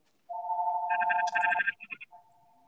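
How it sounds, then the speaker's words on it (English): A phone rings with an incoming call, giving a bright, close electronic tone that warbles in a short burst and then fades to a fainter sustained note. "I got a phone call coming in"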